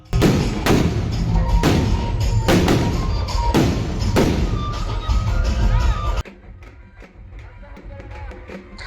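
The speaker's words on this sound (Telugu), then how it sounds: "క్రాకర్స్ ఆ రేంజ్లో కాలుస్తున్నారు" Rapid, loud firecracker bursts crackle and bang one after another for several seconds at a village Ganesh immersion procession, then drop away, leaving a quieter crowd murmur.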